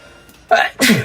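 A single close sneeze, with a small intake of breath just before it and a sharp, loud burst at the end.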